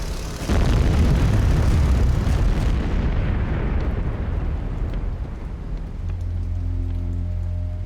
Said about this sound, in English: Gotha bombers pound the Canadian road builders.